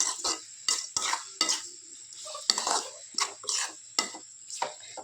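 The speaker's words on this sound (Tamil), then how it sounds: "சேர்த்து நல்லா வதக்கி விடணும்" Boiled beef sautéed with onions in a pan, about a dozen sharp scraping and clinking strokes of a metal spatula against the pan in an irregular rhythm over a faint sizzle, close and clear without talk.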